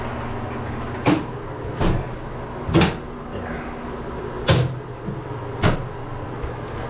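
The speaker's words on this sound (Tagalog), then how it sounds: "Gawa rin po pala sa sliding door." An aluminum sliding door in a newly finished house is opened and closed several times, each move giving a sharp, close clack with short pauses between them over a low steady background hum.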